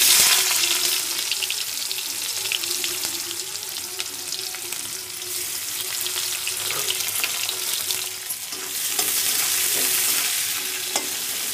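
Chopped onions fry in hot oil in a kadai for an Odia egg curry, a loud, continuous bright sizzle with a low steady hum beneath and occasional stirring scrapes, close up and without talk.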